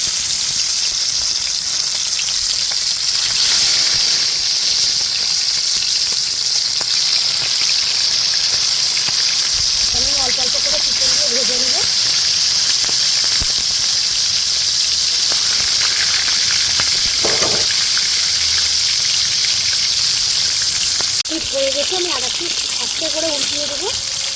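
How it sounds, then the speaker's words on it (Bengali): Pieces of marinated chicken fry in hot white oil in a kadhai with a loud, constant sizzling hiss that never lets up. A few brief voiced sounds rise above it. "মাংস থেকে যে তেলটা মাংসটা থেকে তেল ছুটে ছুটে পড়তে পারে"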